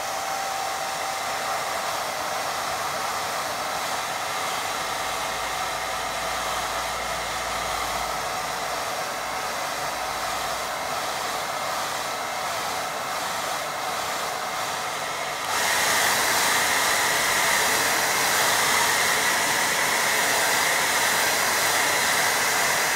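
A hair dryer drying a watercolour painting blows steadily nearby, a constant whooshing whir that jumps louder and brighter partway through and runs on alone.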